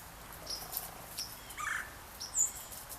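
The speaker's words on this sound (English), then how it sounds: "Different kind of birds." Several different kinds of birds chirp and call in the woods, short bright tweets scattered across a few seconds at moderate distance over a quiet hush of background.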